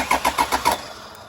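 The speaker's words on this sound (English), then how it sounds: "Let's get the engine started and have a look if it's leaking or not." A car engine cranks over with five rapid, evenly spaced starter turns, close and loud, before the sound drops away into quiet.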